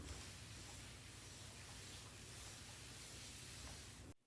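A spray bottle releases a light mist onto fabric before ironing, a steady close hiss that holds evenly for about four seconds and then cuts off abruptly.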